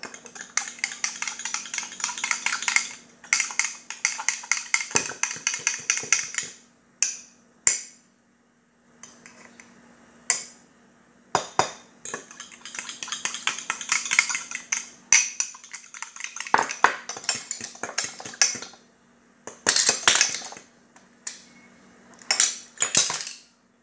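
Metal utensils clink and scrape against a bowl while couscous salad dressing is mixed, in quick bursts of rattling strokes with brief pauses between, close and fairly loud.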